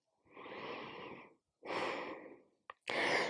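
Three slow, audible breaths during an Iyengar yoga sequence: a long inhale, a long exhale, then a short sniff followed by another deep breath, close and alone.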